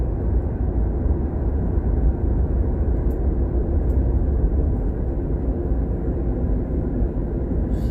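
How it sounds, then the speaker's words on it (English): A car heater blower motor running, a loud, steady low roar that holds constant from start to finish, with no voices. "you could hear the motor every time you turn the blower motor on and off"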